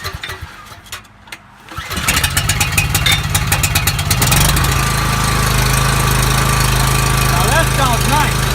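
A Coleman generator engine cranks with a few pull-start rasps, then fires and settles into a loud, steady, close running drone with a hint of governor wavering.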